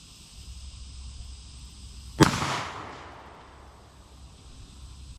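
A 20 gauge double-barrel shotgun fires a single sharp, loud blast at plates outdoors, its report decaying over about a second against a steady background hiss.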